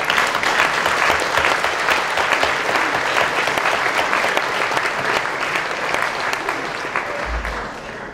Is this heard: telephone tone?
no